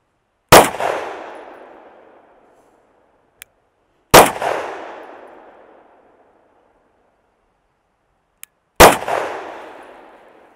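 Three loud, close gunshots from a small gun firing light Inceptor 65 grain rounds, evenly spaced about four seconds apart, each a sharp crack with a ringing decay, and a faint click between shots.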